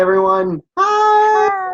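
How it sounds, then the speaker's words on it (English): A house cat meows loudly and close by, giving two drawn-out tonal cries separated by a short gap, while a person briefly greets someone. "But that was my cat."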